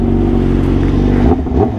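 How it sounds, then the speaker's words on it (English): Honda Fireblade motorcycle engine revving close by, a steady loud rumble that climbs and drops in quick blips toward the end. "revving the engine"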